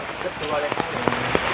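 Rain falls steadily at a Samphao Thai attraction in Phatthalung, Thailand, a dense patter of drops on surfaces with someone talking over it.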